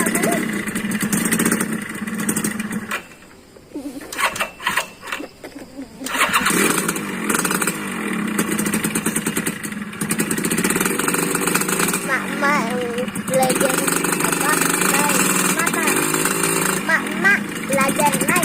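Suzuki Satria two-stroke motorcycle engine cranks and fires, stumbles briefly, then settles into a buzzy, steady idle close by, with people talking over it throughout.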